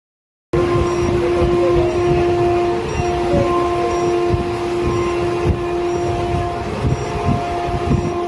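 The Maa Tara Express passenger train runs out of Sealdah with a loud, steady rolling rumble and a sustained mechanical hum. Faint rhythmic ticks from the wheels repeat throughout, and the sound starts abruptly after a brief silence.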